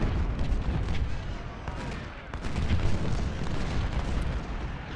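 Sustained cannon and artillery fire from the Civil War strategy game Ultimate General: Civil War, a dense continuous barrage of booms rumbling without pause.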